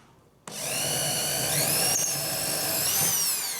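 A power drill spins up suddenly and bores steadily into an aerated concrete block, a loud continuous whining grind with a slight pitch shift near the end, no talk.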